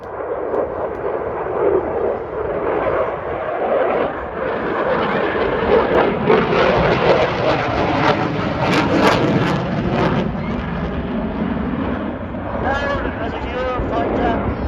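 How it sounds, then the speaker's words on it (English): A Eurofighter Typhoon jet roars overhead at an air show, a loud broadband rush that swells and fades, with a voice talking over it. "That's Adam O'Hare and the Typhoon Eurofighter"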